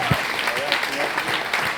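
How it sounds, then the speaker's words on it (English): Audience applause and cheering for a storyteller taking the stage at a Moth Detroit story slam, steady clapping across the whole moment with some crowd voices mixed in. "Give it up for Michelle Fecteau."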